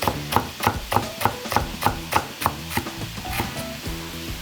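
Knife slicing fresh ginger on a cutting board for a Chinese-style spicy pork and tofu stir fry: a steady run of about a dozen crisp, close chops in even rhythm, with no talk.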